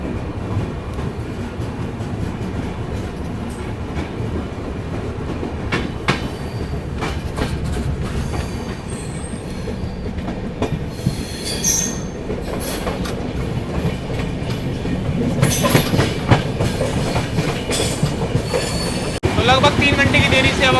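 A delayed Kalinga Utkal Express pulls out of Meerut City Junction, with a continuous loud rumble of wheels on rails, rhythmic clatter and occasional squeals as it gathers pace.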